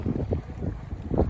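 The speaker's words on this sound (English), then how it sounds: "It's windy today. It's about 20-mile-an-hour wind." Wind of about 20 miles an hour gusts across a flooded cornfield during a mallard hunt, buffeting the microphone with loud, uneven low rumbling.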